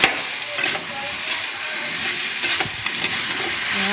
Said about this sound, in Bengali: মাছের মাথাটা দিয়ে একটু নাড়াচাড়া করবো।